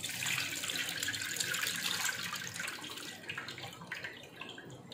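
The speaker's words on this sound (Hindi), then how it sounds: "और फिर ये वाला पानी इसके अंदर हम डाल लेंगे।" Water is poured into a large bowl holding a plastic basket while making tamarind and dried plum sharbat, a steady close splashing rush that thins and fades toward the end.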